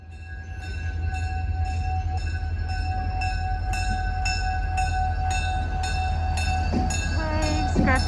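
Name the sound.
distant train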